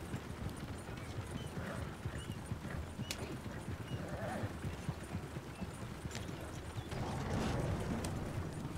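Horse hooves clip-clop steadily over ground in Red Dead Redemption 2, faint and continuous beneath a low ambient game background.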